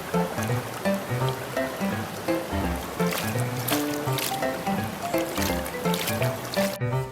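Clear river water flows and splashes nearby as fish are cleaned at the water's edge during a riverside picnic, a continuous babbling burble with irregular watery splashes, fairly close and with no voices.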